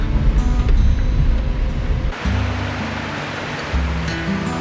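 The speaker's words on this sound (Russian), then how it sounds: "Классический тоннель с водопадом." Water pouring down inside a road tunnel in Georgia, a steady rushing roar blended with the rumble of a car driving through, loud and continuous with a brief dip partway.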